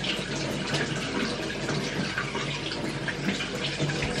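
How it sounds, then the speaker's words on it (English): Water pours steadily from a kitchen tap as hands are washed, a loud, continuous hiss and splash that holds unchanged throughout with no speech. "I'll wash my hands"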